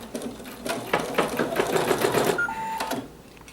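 An embroidery machine stitching an edge-to-edge quilting design runs with a steady, rapid mechanical chatter close up, then slows and stops, followed by a short electronic beep.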